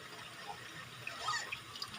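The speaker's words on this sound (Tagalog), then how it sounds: "So lagyan lang natin guys ng kaunting tubig" Water pours steadily into a pot of vegetables in a home kitchen, with a soft continuous splashing. The sound is fairly close and has no voices over it.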